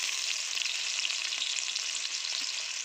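Onions and grated coconut fry in hot oil with mustard seeds and cumin, giving a dense, even, close sizzling hiss that holds steady for the whole short stretch, with no voices.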